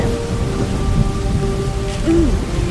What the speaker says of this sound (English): It's storming out here real bad. It's raining.